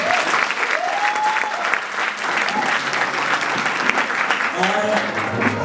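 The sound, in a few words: audience applause before a performance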